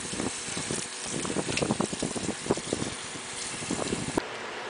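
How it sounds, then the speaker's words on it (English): Cold running water splashes steadily onto rice noodles in a sink, with irregular spattering and gurgles over a constant rushing hiss, close by. "now we just rinse it with cold water"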